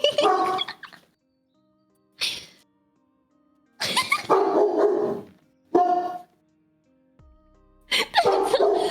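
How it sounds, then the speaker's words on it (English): A dog barks in several separate bursts, close by, with short silent gaps between the outbursts. "do you hear my dog barking?"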